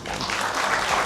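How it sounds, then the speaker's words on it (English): A brief burst of dense clapping from an audience at a Women of the Year ceremony honoring the honorees, loud and continuous throughout. "give a round of applause to all the honorees today"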